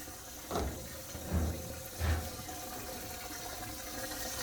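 Hot water flowing through a washing machine hose during a home hookup, a soft continuous rushing wash with a few gentle gurgling surges, fairly faint.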